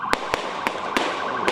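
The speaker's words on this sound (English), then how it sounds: "The unmistakable sound of gunfire" Gunfire during a police chase through Washington D.C.: five sharp, loud shots at irregular intervals over a sustained siren wail and traffic noise.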